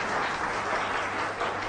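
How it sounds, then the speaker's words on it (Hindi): A crowd at a government ceremony applauds to welcome the Chief Minister, steady, fairly soft clapping that fills the whole moment without talk. "इस क्षण का जोरदार तालियों के साथ अभिनंदन।"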